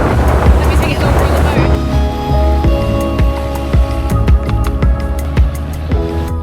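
A boat cruises on the open sea off Koh Phi Phi, Thailand, with a steady engine drone and a rush of wind and water that runs the whole time, close and fairly loud.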